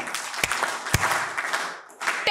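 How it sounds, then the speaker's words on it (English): Student audience clapping and cheering, a few sharp loud claps standing out over a steady crowd roar, which dips briefly before a voice-like shout rises at the very end. "I request everyone to clap after me three times and shout 10 as loud as you"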